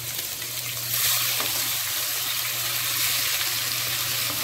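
Ginger garlic paste frying in hot oil for chicken changezi, a continuous bright sizzle and crackle held at steady strength close by, without any talk.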